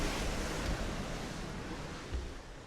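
High waves on the Croatian coast, heard as a steady windy surf roar with a few heavier low thumps of breaking water, no voices.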